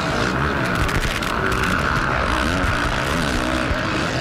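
Supercross motorcycles race at the 2007 Phoenix round, heard from a Rockstar Suzuki rider's helmet cam as a continuous, droning engine roar with shifting pitch and crowd noise underneath.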